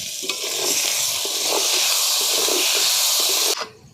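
Tomato paste sizzles loudly in a pan of frying turmeric, chilli, coriander and cumin powders, a steady broadband hiss with faint stirring scrapes that cuts off abruptly near the end.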